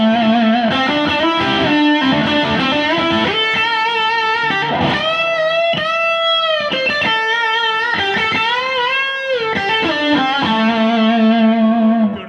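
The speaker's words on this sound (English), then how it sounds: "with the humbucker, I'm going to switch on a little bit of heavier distortion." A Nash Wayfarer electric guitar on its humbucker pickup plays through heavy distortion, with thick sustained chords and riffs that ring loud and continuous, interrupted by a few brief muted gaps between phrases.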